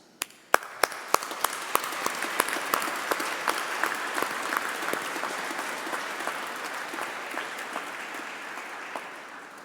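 An audience at a university graduation ceremony applauds its academics, a dense, steady wash of clapping that starts with a few sharp individual claps and swells into sustained applause from a crowd indoors.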